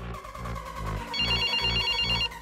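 A telephone rings in a repeated electronic trill over a steady pulsing rave-style music bed, the ring starting about halfway through and cutting off just before the end.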